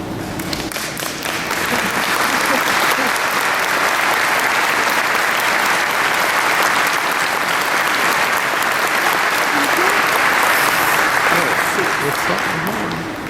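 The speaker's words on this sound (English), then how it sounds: "Please join me in applauding our initiates." An audience at the CHEST 2012 medical conference in Atlanta applauds the initiates with loud, dense, steady clapping that rises quickly and holds evenly for over ten seconds.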